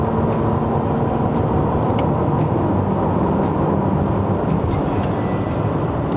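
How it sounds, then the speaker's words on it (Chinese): A Toyota Vellfire AH40 2.4T turbo driven on the road, its cabin filled with a steady broadband hum of intake and road noise, continuous and loud with no distinct peaks and no talking. "完了听到turbo声比较多，那种进气那种声音"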